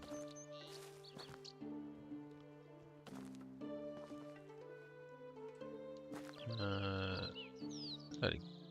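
Sheep in a video game bleat a few times, loudest near the end, over steady background game music.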